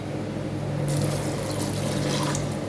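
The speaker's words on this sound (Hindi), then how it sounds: "3 से 4 गिलास इसमें पानी डालेंगे।" Water pours into a pressure cooker holding beef, onion, green chillies, ginger, garlic and whole spices: a steady splashing rush that starts about a second in and runs on under a low background hum.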